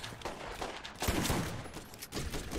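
Sledge's shotgun fires in the video game Borderlands, loud, booming blasts running together into a chaotic burst of gunfire.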